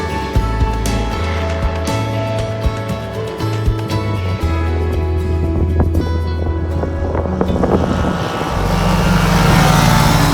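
A Kitfox light aircraft drones with a steady propeller engine in flight, loud and continuous with wind rush, rising in intensity near the end.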